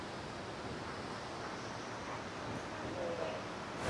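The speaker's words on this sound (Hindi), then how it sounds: "सामने आप पानी गिरता देखकर, पानी के यहाँ पे शोर सुने आप, कितना मज़े का यहाँ पे शोर है" The Iguazu waterfalls in Brazil give off a continuous broadband roar of falling water, steady and enveloping, heard close up with no talking over it.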